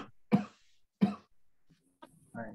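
A person in a classroom-style language lesson coughs twice in sharp, close bursts, followed by brief throat noises and a short murmur of voice at the end.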